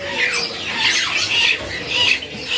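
Gouldian finches kept in pairs at a bird-market kiosk squawk and chirp continuously in a dense, bright chatter, loud and close, with overlapping calls throughout and no speech.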